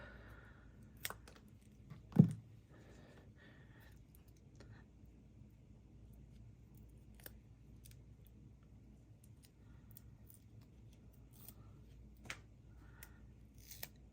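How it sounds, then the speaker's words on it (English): A single quick snip of scissors trims a small piece of cardstock for a Stampin' Up! autumn leaves card, close but brief, followed by a quiet room with a few faint ticks and no speech. "I think I'm going to trim just a little piece off right here"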